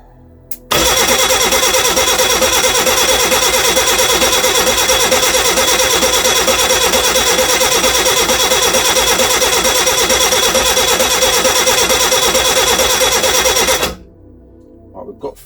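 A Reliant Regal Supervan engine cranks continuously for about thirteen seconds, a rapid, loud, rhythmic churning of the starter close by without catching, then stops abruptly into near silence.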